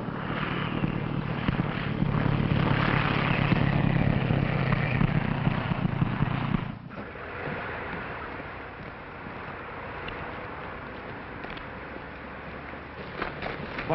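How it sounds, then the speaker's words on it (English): Aircraft motor droning loudly and steadily at first, then dropping abruptly to a softer, lower running hum that continues to the end, with no talk. "Start the motor."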